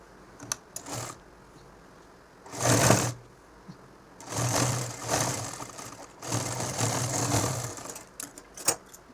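A home sewing machine stitches a nightdress in several short bursts of fast whirring and rattling, with gaps of quiet handling between them, fairly close and moderately loud.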